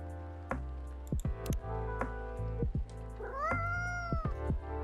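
A cat meows in the video game Coffee Talk 2: several clear, rising-and-falling meows over a quiet, steady musical background.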